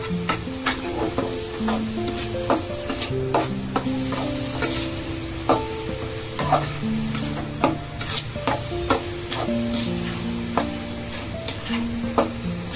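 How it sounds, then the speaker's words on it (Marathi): A spoon stirs a sweet mixture of milk, cream and coconut in a pan, giving repeated scraping strokes and a faint sizzle, close up with no one talking. "चांगलं हलवून घेऊया आता"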